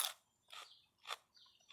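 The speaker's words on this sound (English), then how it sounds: "Perfect little crunch, perfect little morning snack in the garden" Crisp crunches come from biting into fresh Sugar Ann snap peas in a garden, several sharp bites close to the mic with short pauses in between, quiet otherwise.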